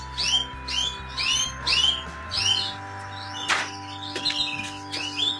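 A small bird in an aviary chirps in a quick repeating series of bright notes, close by, over a steady low electrical hum, with a sharp clack partway through.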